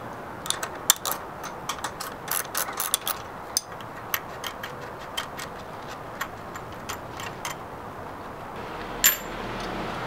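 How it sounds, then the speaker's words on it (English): Small metallic clicks and ticks from a wrench working the jam nut and lash nut off the valve rocker arms of a Predator 212cc go-kart engine, scattered, close, over a faint hiss. "So just go ahead and take off the other jam nut here and lash nut."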